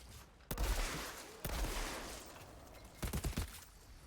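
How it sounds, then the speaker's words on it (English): Shotgun blasts from the video game Outriders: three loud, booming shots spaced about a second apart, followed by a quick cluster of sharper reports, each trailing a long noisy decay. "That was the effect of my shotgun."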